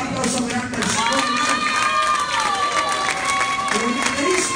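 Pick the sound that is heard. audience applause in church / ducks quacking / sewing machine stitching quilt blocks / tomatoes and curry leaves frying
audience applause in church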